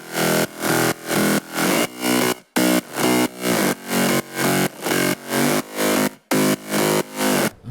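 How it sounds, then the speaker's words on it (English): Mid bass synth for an emotional progressive house track, pumping in loud repeated swells on a steady beat with a full, thick tone and a few short dropouts, with no voices. "And then the mid bass sounds like this."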